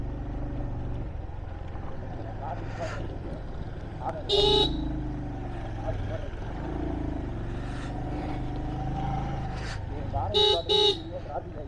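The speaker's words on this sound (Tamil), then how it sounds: "திரும்பி அதே டிராஃபிக்டா." Car horns honk in short bursts around 4.5 and 10.5–11 seconds over a steady engine drone in a traffic jam on a Kodaikanal hill road during a bike ride, with talk running through the whole stretch.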